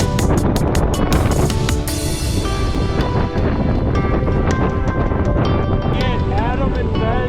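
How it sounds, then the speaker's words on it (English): Strong gusting wind buffets a microphone at a volcano, a loud, continuous roar filling the whole clip with bursts of flapping, while a person speaks over it. "It's so freaking windy."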